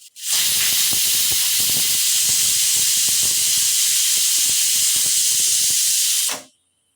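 A loud, continuous rush of steam hissing from a pressure cooker for several seconds, then cutting off abruptly.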